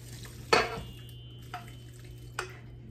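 Sausage stuffing for Thanksgiving being mixed in a bowl, heard as one sharp scrape followed by two softer stirring knocks over a quiet background, close by and without speech.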